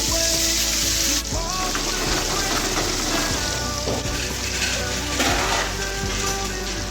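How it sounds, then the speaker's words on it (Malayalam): Mustard seeds pop and crackle steadily in hot oil in a pan, with dense, continuous sizzling that stays close and loud, with a few brief sharp pops throughout and no talk. "ഇത് കടുക് പൊട്ടി തുടങ്ങിയിട്ടുണ്ട്. കടുക് പൊട്ടിയിട്ടുണ്ട്."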